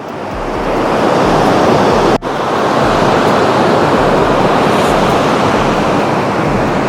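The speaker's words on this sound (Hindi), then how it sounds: "You can see the intensity, the flow of water." The Baspa river rushes hard past Karcham dam in the Himalayas as a loud, dense, unbroken roar of water. Wind buffets the microphone, and there is one tiny dip early on.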